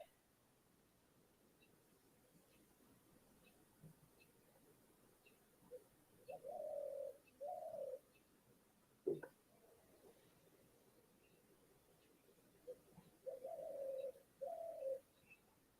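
Soft cooing of a dove or similar bird in a vineyard in Bhutan, a few short two-part coos repeated at intervals over quiet outdoor ambience, moderately near.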